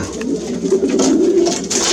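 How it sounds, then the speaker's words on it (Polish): Pigeons coo in soft, throaty, continuous murmurs, close by, with a faint bird chirp or two above. "To są gołębie topowe."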